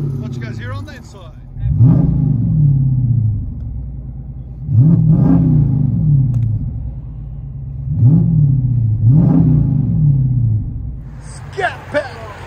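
2013 Dodge Challenger SRT8 with a 6.4L HEMI V8, dual exhaust and Dynomax Race Bullets, heard from inside the cabin as four loud revs that rise and fall in steady succession over a low idle rumble.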